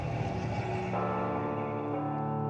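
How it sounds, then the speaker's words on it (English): Several large bells ring together in a video game, their deep, overlapping tones sustaining and blending into a continuous resonant peal, moderately loud with no voices. "Just gonna ring these bells to foreshadow somebody's death."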